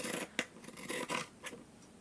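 Scissors snipping through yarn while a yarn doll is being made, a few quick close cuts and rustles spread over two seconds, quiet and with no talking.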